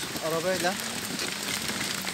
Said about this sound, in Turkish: Yağmur bayağı bir hızlandı